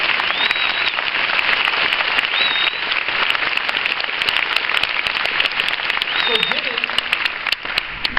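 Audience applause fills a rally for religious liberty in Des Moines, Iowa, with dense, continuous clapping throughout and a voice briefly speaking underneath.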